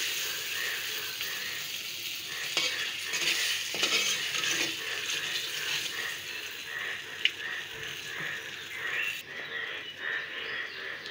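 Boiled raw mango being stirred into fried panch phoron for a sour-spicy pickle, with steady pan scraping and a soft ongoing sizzle, close and continuous, no voices.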